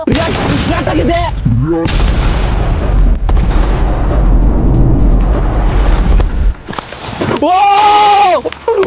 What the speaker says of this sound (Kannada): ಕೃಷಿ ಹೊಂಡದಲ್ಲಿ ದೊಡ್ಡ ಪ್ರಮಾಣದ ಸ್ಫೋಟ ನಡೆಸಿ